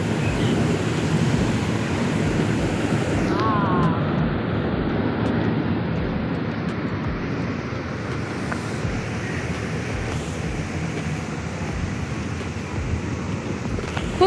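Steady rushing water flowing out in several channels at a scenic outdoor spot, a continuous broad wash with some wind buffeting the microphone and no talking.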